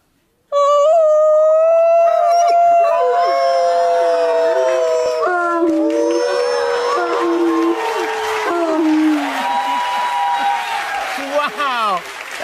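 A dog howls in long, rising and falling wavering tones, loud and close, with the pitch sliding and breaking into yelps near the end.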